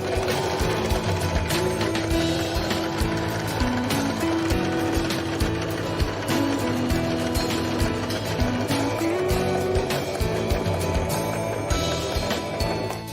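Janome 1522 domestic sewing machine stitching fabric, a steady continuous mechanical whir running the whole time at close range, with faint gliding tones drifting above it and no one talking.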